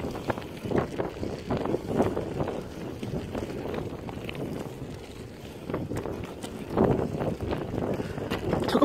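Rough, gusty wind buffeting a microphone, rumbling and uneven, rising and falling in bursts throughout.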